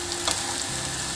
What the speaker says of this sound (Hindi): थोड़ा सा आंच को तेज़ कर देते हैं, हल्का सा इसको फ्राई करेंगे